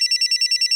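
A telephone rings loud and close with a rapid, evenly pulsed electronic trill, several short bursts in quick succession and no voices.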